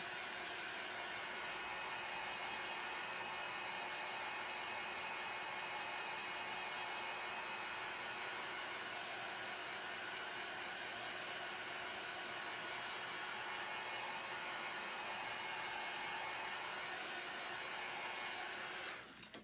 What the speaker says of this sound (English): I'm going to take my hairdryer and dry this